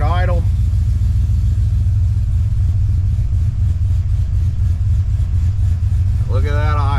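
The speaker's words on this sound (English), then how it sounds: "Look at that idle." A 6.2-litre V8 swapped into a 2007–2013 GMT900 Silverado idles with a loud, steady low rumble close by, while someone talks briefly at the start and again near the end.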